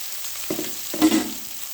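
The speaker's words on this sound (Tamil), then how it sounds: "மாங்காய் போட்டு நல்லா கிளறிட்டு நல்லா வணக்கிடணும்" Raw mango pieces sauté in a hot pan, giving a steady sizzle broken by two short scraping stirs, the second one louder, with no talking.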